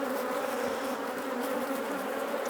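Honey bees buzz as a hive is opened for inspection, a dense, steady drone of many insects close by, constant throughout without talk.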